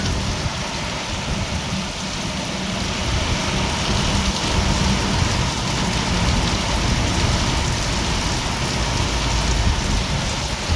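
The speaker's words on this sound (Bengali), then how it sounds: "দেখো কত সুন্দর বৃষ্টি পড়ছে" Heavy rain pours down steadily, a dense hiss of drops drumming on surfaces with a low rumble underneath.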